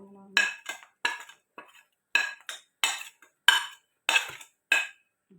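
A spoon or spatula scrapes and clinks against a pan while chicken thoran masala with onion is stirred, about ten short separate strokes in an uneven rhythm, close and fairly quiet, with no sizzle and no voices.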